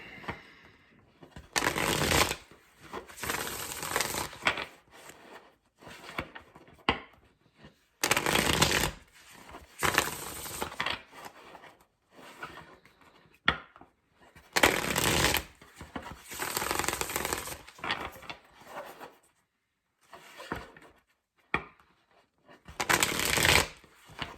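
Tarot cards being shuffled in repeated bursts of riffling and flicking, close and crisp, with short pauses between rounds.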